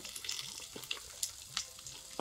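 Sliced onions, chilies and carrots hit hot oil in a pan for chowmein, giving a steady close sizzle with a few sharp crackles and spits scattered through and a louder burst at the very end.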